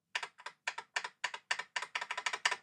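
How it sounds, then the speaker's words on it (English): Keys on a programmable computer keyboard are struck in quick, crisp clusters, including backspace presses, a close and clear run of about a dozen taps with no voice. "And I'm hitting backspace."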